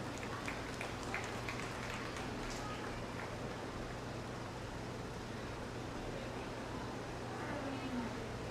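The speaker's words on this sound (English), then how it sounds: "Let's give them a big round of applause." An audience claps at a junior fair feeder calf breeding show at the Muskingum County Fair, a soft, distant, steady wash of applause mixed with faint talk in a large space.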